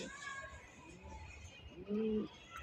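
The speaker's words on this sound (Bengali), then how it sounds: "দেখেন নটটা কিভাবে ডাকতেছে, বিগ সাইজ।" A large male racing pigeon coos close by, with a few soft throaty calls and a louder, sustained coo near the end, over a faint background hiss.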